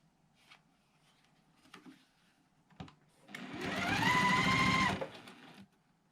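A sewing machine joins quilt block rows, running in one steady stitching burst of about a second and a half after some quiet handling noises, then stopping.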